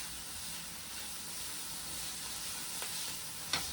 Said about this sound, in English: we're going to add sausage just to give it a little heat. It's a little pre-cooked sausage.